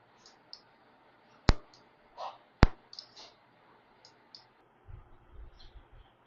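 Sharp clicks from pressing the pause button on an elbow CPM (continuous passive motion) machine, with two loud distinct clicks among softer taps and a low mechanical rumble near the end.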